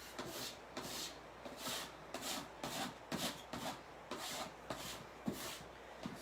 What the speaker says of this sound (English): I'm going to scrape all this paste off.